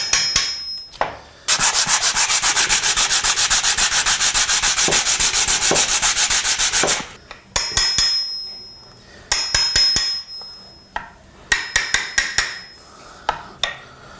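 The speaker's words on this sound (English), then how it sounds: "I like to chisel these away a little bit at a time." Chisel paring away timber glue blocks behind a skirting board, first a long continuous rasping scrape, then shorter bursts of scraping and sharp taps, close and fairly loud.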